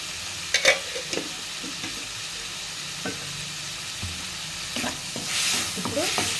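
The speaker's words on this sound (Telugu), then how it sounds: "కలిపేసుకొని కొద్దిగా పసుపు కూడా వేసేస్తాను." Tomato mixture seasoned with salt and turmeric being stirred while it fries, a steady sizzle with scattered scraping spoon strokes and brief clinks, close and moderately loud with no talking.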